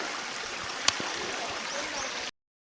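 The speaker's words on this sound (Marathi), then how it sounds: "नुसता पाण्याचा खलकलाट आहे खालती" Steady rushing of water from a stream swollen after rain, continuous and moderately loud, with a brief sharp click partway through before it cuts off.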